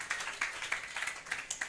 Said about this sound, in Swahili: Sema nipigieni makofi